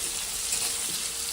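Capsicum and green chillies fry in a pan for noodles, making a steady, close hiss of sizzling oil with no voices over it.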